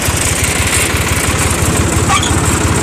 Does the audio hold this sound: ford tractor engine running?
yes